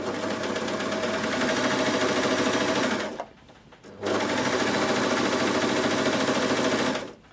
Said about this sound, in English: I am going to sew with the twin needle